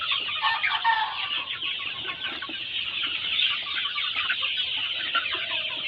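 A poultry farm flock of young roosters and hens, about seven weeks old, keeps up a dense, continuous clucking chorus at moderate distance, with no talk over it.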